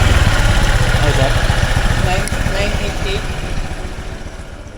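Motorcycle engine idling after maintenance, a loud close chugging rumble that fades slightly over a few seconds.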